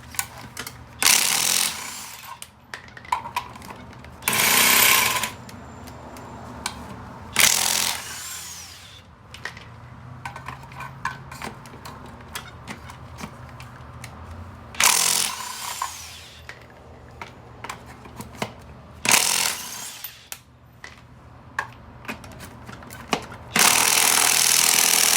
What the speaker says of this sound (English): A DeWalt Impact 13/16 socket.